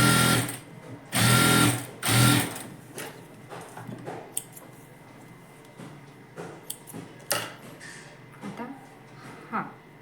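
A sewing machine stitches blouse fabric in two loud, fast bursts near the start. After them come softer clicks and handling noises as the cloth is adjusted, and a voice speaks faintly in the background.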